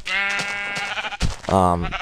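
Sheep bleat in the Minecraft world, a couple of loud nasal harmonic calls close by, one near the start and another near the end, with no talk over them.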